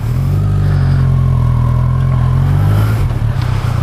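A Kawasaki Versys 1000 motorcycle rumbles steadily while being ridden, its engine drone loud and close with wind noise, the pitch shifting slightly as the revs change.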